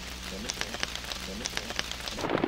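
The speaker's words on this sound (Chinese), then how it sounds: "落雨啊，上唔到树咧" Sudden heavy rain pours down outdoors where mussels are harvested, a steady hiss with scattered sharp drops and patters, growing louder at the end, with a voice talking faintly beneath.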